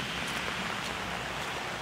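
Rain falling outdoors among garden plants and sugarcane, a steady dense wash of patter that stays even and fairly loud throughout, no voices.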